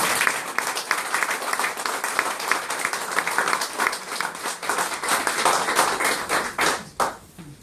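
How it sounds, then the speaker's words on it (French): Audience applause at a medal ceremony awarding the Chevalier de l'Ordre National du Mérite, a steady burst of many hands clapping close by for several seconds before fading out near the end. "Là, on est obligé de vous applaudir avant toute chose."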